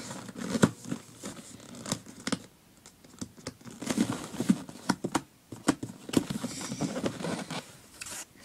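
Packaging around a new pair of trainers being opened, with a run of crinkly tearing, rustling and sharp snapping handling noises at close range, no talking.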